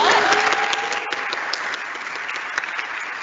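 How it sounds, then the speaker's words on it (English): Audience applause at a live theater festival performance, a steady wash of clapping from a crowd that holds fairly even and slowly eases off across a few seconds, with no talking over it. "let's give a applause for that"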